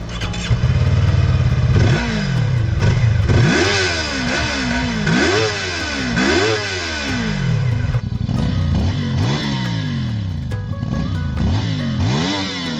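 A Kove 350RR motorcycle engine with a setup like a Ninja 400 idles briefly, then revs hard in repeated sharp rising and falling sweeps, loud and close, before settling into a steady high rev.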